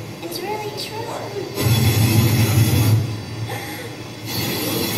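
Wheels of an animated train squeal and rumble loudly, a heavy low roar surging mid-clip before easing, with voices talking over the noise.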